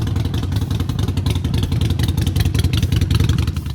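Fuel-injected Harley-Davidson Sportster V-twin holding a fairly high idle, a loud, steady, close throbbing rumble with a fast even pulse throughout.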